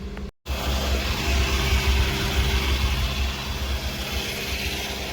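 A Tata Intra V30 commercial vehicle's engine runs with the accelerator held, a steady low rumbling drone close by after a brief cut at the start, with no clear rise and fall in pitch.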